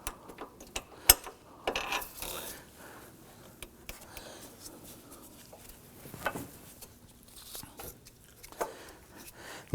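Ratchet clicking while installing a front engine mount bolt on a 2008-2011 Ford Focus, with short bursts of close pawl ticks, metallic clanks and handling noises between quieter pauses.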